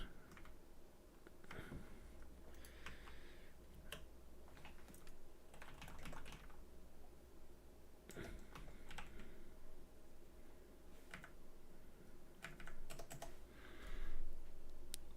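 Someone types on a computer keyboard in bursts of quick, light key clicks with short pauses between, fairly close and quiet against a soft room hiss.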